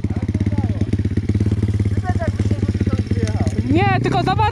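A 140 pit bike engine revs hard outdoors in a forest, loud and close, with rapid throttle blips and rising whines that climb toward the end, while voices talk over it.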